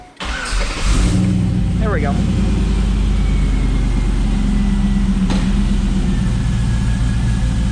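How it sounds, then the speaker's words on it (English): A Ram truck with an inline four-cylinder Vortec engine cranks and catches almost at once, then settles into a steady, close, low idle that runs to the end, with someone speaking briefly over it. "Here, I'll start it up so you can hear it."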